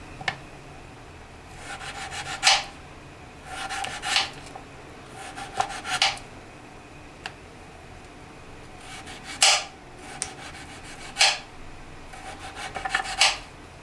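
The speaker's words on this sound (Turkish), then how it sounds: "Patateslerimi bu şekilde halka halka doğruyorum." A knife cuts nearly two kilograms of potatoes into rings on a board, giving quiet, rasping slicing strokes in short bursts separated by pauses.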